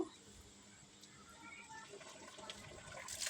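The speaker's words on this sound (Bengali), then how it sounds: "কল ছেড়ে আমি আবারও ভালো করে ধুয়ে নিব" Cut potatoes for aloo bhaji rinsed under running tap water in a strainer, a faint steady splash and trickle that grows louder toward the end, with no voices.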